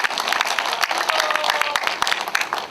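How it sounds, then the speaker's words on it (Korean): Audience applause at a Gwangju gugak (Korean traditional music) festival ceremony, steady dense clapping from a crowd that holds at an even, fairly loud level throughout. "여러분 큰 박수, 격려 박수를 부탁드립니다"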